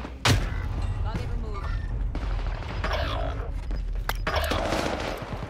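Tommy gun bursts in Call of Duty Warzone, rapid gunfire and booms from a battle royale match, loud and constant, with someone talking over the shooting.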